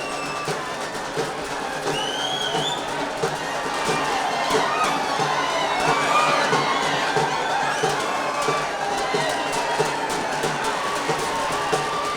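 A large crowd of Maratha protesters cheers and shouts at CSMT station in Mumbai, a dense, sustained roar of many voices that swells slightly and stays loud throughout.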